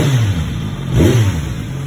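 A 2023 Kawasaki Z900SE motorcycle with a catalytic converter still in its exhaust revs briefly from idle, one quick throttle blip rising and falling over a steady engine rumble, close by.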